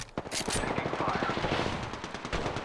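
Rapid automatic gunfire in Apex Legends, a dense, loud burst of repeated shots rattling continuously over a few seconds, close and dominant.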